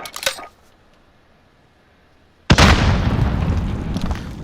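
Spawn tube fired in Modern Warfare, a short sharp pop, then a quiet pause before a sudden loud booming launch that sustains as a roaring rush.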